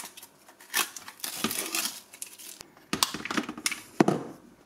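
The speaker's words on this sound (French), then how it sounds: "Il y a du scotch à retirer." Several short crackling rips and tearing bursts of adhesive tape being peeled off a Silvercrest SDM 1500 C2 steam mop, close and moderately loud, in uneven spurts with no talking.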